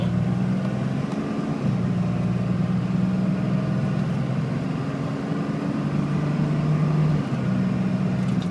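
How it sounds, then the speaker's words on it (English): A loaded 1-ton truck, about 10,000 pounds, rolls steadily with the air conditioning running, its engine droning low and constant while a faint turbo whine rises and falls across the gears, with no voices. "There's the turbo."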